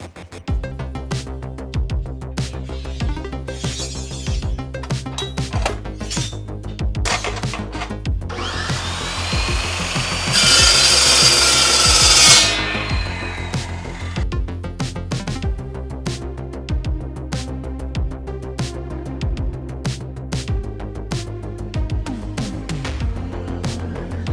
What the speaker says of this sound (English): this Evolution metal saw made some quick work out of this rebar here